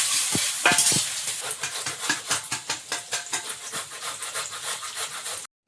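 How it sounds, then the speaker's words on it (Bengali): Chopped onion for biryani hits hot oil and sizzles steadily while a utensil stirs and scrapes the pan in a regular rhythm, close and fairly loud, with no talking. "পেঁয়াজ কুচিটা তেলের মধ্যে দিয়ে দিলাম।"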